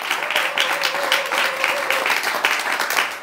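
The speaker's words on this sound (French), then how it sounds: "Acclame très fort le Seigneur Jésus." A congregation applauds loudly to acclaim Jesus, sustained close clapping from many hands with a few louder surges and a hint of voices and a held tone mixed in.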